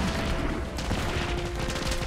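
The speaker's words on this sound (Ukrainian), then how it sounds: "Можна стріляти з автомата" Automatic rifle fire in the video game MINIMUM, a dense, continuous burst of rapid shots rattling steadily for about two seconds, loud and without pause.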